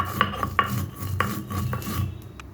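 Roasted fennel seeds are crushed by hand for an amla pickle; a few soft, irregular grinding knocks and scrapes sound close and quiet, with no talking.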